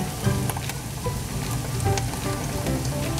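Carrots and radish hit a hot pan and sizzle steadily, a close, even crackle of frying with small pops throughout and no talking.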